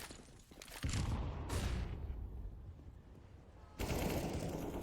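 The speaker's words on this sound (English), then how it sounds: "Price using that M4 quite well, taking out Spzrta" Automatic M4 rifle fire in a CS:GO esports match on the Overpass map, heard as dense rapid bursts with loud, close, full-band shots, a brief lull, then another burst at the end.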